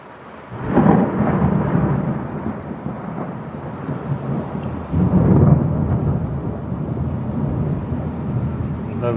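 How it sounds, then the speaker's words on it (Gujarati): Thunderstorm with heavy rain and wind, rolling thunder booming loudly near the start and again midway, a dense steady roar of rain filling the gaps throughout. "વીજળીના ધડાકા ધડ ધડ ધડ ધડ થઈ રહી છે"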